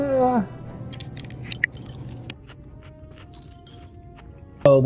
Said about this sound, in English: Oh, that was me eating.